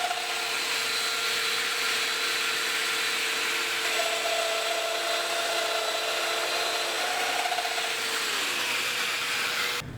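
Domino joiner plunge-cutting mortises into wooden rails for an exterior door, a steady loud whirring motor with a constant high hiss and slight shifts in pitch as the cutter bites, running continuously without pauses.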